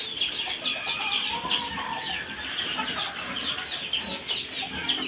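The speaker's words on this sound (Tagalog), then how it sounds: "Nakapagpatoka na rin po yata si Tatay Roman ng manok." Chickens cluck and chatter steadily at a Tagaytay home as they are fed scattered pellets, a busy, moderately loud flock with occasional wing flutters and no voices.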